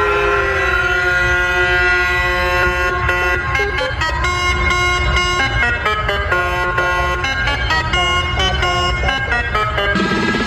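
Loud electronic dance track with blaring, horn-like synth chords chopped into a stuttering rhythm over a steady, heavy low end.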